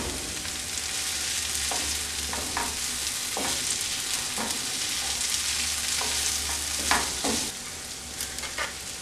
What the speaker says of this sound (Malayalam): ഇനി ഇതിലേക്ക് വേവിച്ച് വെച്ചിരിക്കുന്ന ചോറ് ചേർത്ത് മിക്സ് ചെയ്തെടുക്കാം.